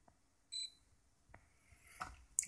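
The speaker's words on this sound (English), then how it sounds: "And it beeps." A Dunheger digital luggage scale gives a short electronic beep, with faint handling clicks and rustles before and after in an otherwise quiet room.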